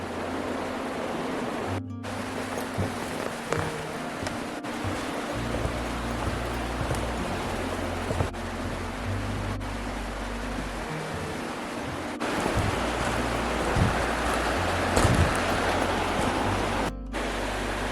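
A steady rushing roar of the Alfred River flowing, heard from a sluice box in winter, broadband and constant, with occasional low rumbles from wind or handling.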